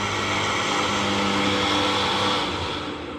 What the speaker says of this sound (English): we got the winch working